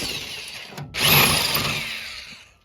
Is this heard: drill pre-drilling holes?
yes